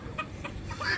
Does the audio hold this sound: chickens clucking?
yes